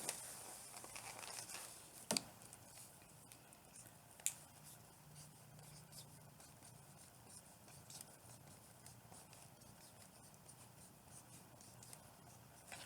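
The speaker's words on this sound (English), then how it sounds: "Let me just write that out on the board so that I won't confuse you." Marker or chalk strokes scratching across a board, a faint, steady run of writing over quiet room tone, with a couple of sharp taps along the way.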